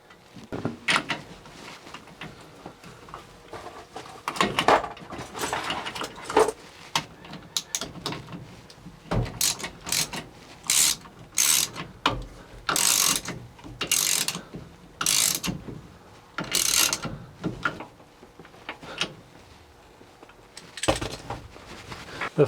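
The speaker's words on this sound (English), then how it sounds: "Now we'll go ahead and reattach the nut." Ratchet wrench tightening the steering wheel nut on a 1960s Chevy C10 truck, heard close up as repeated bursts of sharp clicking with short pauses between strokes.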